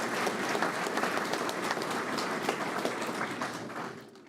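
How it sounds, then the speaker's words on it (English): A graduation audience applauds in a sustained, dense burst of clapping from many people that holds steady, then tapers off near the end. "Give yourself an applause."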